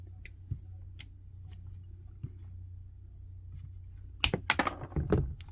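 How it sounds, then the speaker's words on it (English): An HP 19V laptop charger cable is cut in a quiet room: a few faint isolated ticks, then a quick cluster of close, crisp snipping sounds near the end. "So first I cut the cable."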